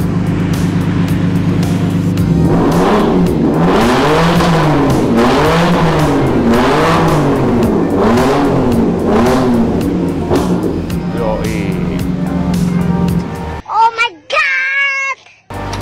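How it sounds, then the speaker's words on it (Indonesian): A Jaguar X-Type V6 with a custom exhaust revs loudly again and again in swelling rhythmic surges, then cuts off, leaving a brief burst of speech at the end. "gue mau dengerin dulu customan exhaust dari kita nih"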